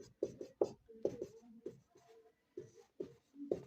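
Pen strokes writing out a Pythagoras theorem solution for a class 10 maths problem, heard as close, scratchy bursts of short strokes separated by brief pauses.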